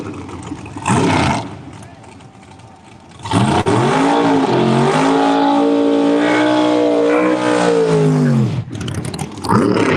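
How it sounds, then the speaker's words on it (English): Supercharged 1957 Chevrolet drag race car with Nelson Competition power launching and accelerating hard at a drag strip, a loud roaring engine sweep with rising and falling pitch, after a brief distant burst, under a track announcer's voice. "Brian Kloss coming at you in the 632. 1957 Chevrolet. Nelson Competition horsepower under the hood."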